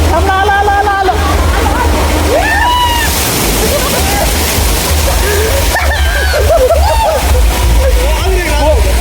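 Water pours heavily from a shower tower at a Solapur waterpark, a loud, constant splashing rush that lasts throughout while excited voices shout and talk over it.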